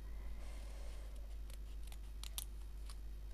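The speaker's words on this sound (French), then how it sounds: "je coupe autour" Scissors snip around a postage stamp for an art journal page, giving a few quiet, close, crisp cuts against a faint steady background hum.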